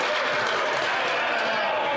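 Members of the Canadian House of Commons applaud after a heated speech, a thick continuous roar of clapping hands filling the chamber without a break.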